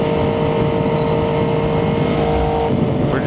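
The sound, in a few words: Triumph 675SS motorcycle with full IXIL exhaust revving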